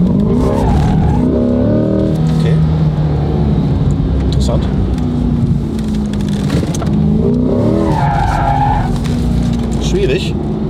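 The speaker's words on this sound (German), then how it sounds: "Ja, schwierig zu driften." A Corvette C8 drifting as its tyres skid and squeal over a steady engine drone, loud and close throughout, with people talking over it inside the car.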